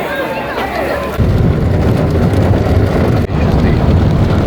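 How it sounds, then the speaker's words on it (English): Heavy afternoon rain pours down outdoors, a steady dense hiss that thickens partway through, with wind buffeting the microphone and low rumble beneath. "And this rain isn't supposed to stop all afternoon."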